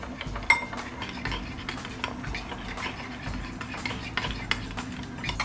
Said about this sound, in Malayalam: ഇനി കുറച്ച് വെള്ളം ഒഴിച്ചത് കുഴച്ചെടുക്കുകയാണ്.